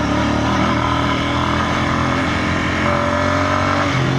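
A Royal Enfield Bear 650 motorcycle rides off-road on mountain terrain, its engine droning loud and continuous with steady revving throughout and no voices.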